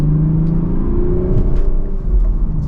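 A BMW Z4 convertible in sport mode and second gear pulls away under mild acceleration, its steady engine rumble and whir rising smoothly and continuously up close, with no talking.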